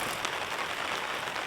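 Heavy rain falls on a camping rain cover as a dense, steady patter of drops with no pauses, continuous and fairly close.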